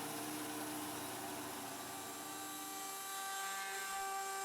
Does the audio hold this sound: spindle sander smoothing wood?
yes